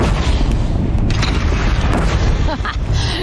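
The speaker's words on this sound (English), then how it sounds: "They only have one cannon!" Cannon fire in the Horizon Zero Dawn video game: loud, heavy booming blasts that fill the mix densely and keep rolling on with rumbling low-end energy.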